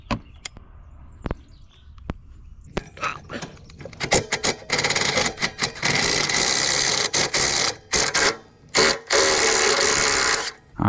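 A wrench, likely a ratchet, works loose an exhaust bolt on a Can-Am XMR 570 side-by-side. Scattered clicks and taps at first give way to long stretches of loud, continuous, gritty ratcheting and grinding, broken by brief pauses, with no talk.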